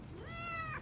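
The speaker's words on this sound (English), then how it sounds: "That's my cat, Senor Burrito." A pet cat in a film gives a single short, rising meow, clear and close against a soft, steady background.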